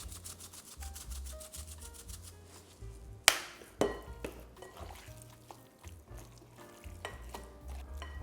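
Seasoned pork chops are stirred and mixed in a pan, giving scraping and rubbing strokes with a faint sizzle and one sharp clank partway through, set against a low background hum.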